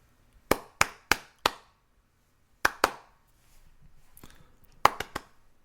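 A few soft, sparse hand claps in small bursts, quiet and polite rather than enthusiastic, with silence in between.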